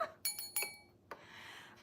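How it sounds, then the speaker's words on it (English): A vintage candy cart or ice cream cart bell rings in several bright metallic strikes, each decaying quickly, with a couple of louder clinks spaced irregularly and near, in a quiet room with no talk. "it said that it was a candy cart bell or like an ice cream cart bell"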